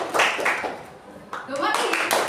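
Pupils in a school classroom clap their hands together in loud group bursts, and children's and a teacher's voices talk between and over the claps.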